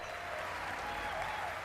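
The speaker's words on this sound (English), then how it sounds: "I was hoping nobody clapped." Audience applause at the E3 2018 PlayStation showcase: steady, dense clapping from a large crowd, moderately distant and evenly sustained with a faint tonal hum beneath.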